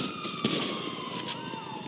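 Ambulance siren in the video game GTA 5, a steady wailing tone sweeping slowly over a busy background of game noise and faint voices, lasting through the short moment.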